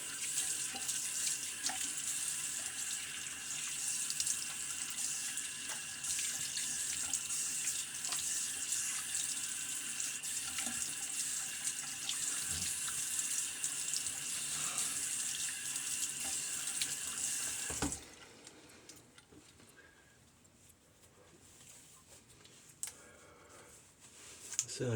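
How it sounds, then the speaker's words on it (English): Water runs steadily from a bathroom tap into a sink for a quick rinse during a wet shave, a constant close hiss that stops abruptly near the end, leaving a quiet room with faint clicks. "let's get a quick rinse here"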